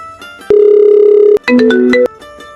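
A telephone rings loudly: one long electronic tone, a short pause, then a warbling two-note burst, heard close with no voices.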